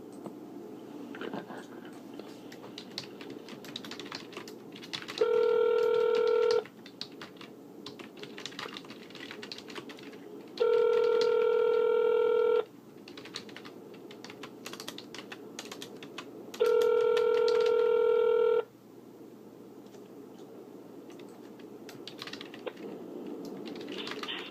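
A telephone call to a judge's office rings out as three long, evenly spaced tones, each lasting about two seconds, over faint background clicking and line hiss.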